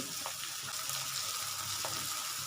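Green chillies dropped into a pan of simmering lentils, a soft, steady sizzle with a couple of faint clinks.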